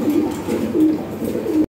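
European Lahore Shirazi pigeons give soft, low, repeated coos, three short bursts over a steady murmur of close-up bird sounds.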